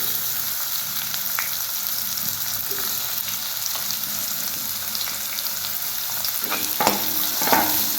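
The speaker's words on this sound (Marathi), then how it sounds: "आता बारीक चिरलेला कांदा टाकूया।" Finely chopped onion hits hot oil with browned garlic in a pan and sizzles and crackles steadily up close, with occasional stirring clatter and no talking.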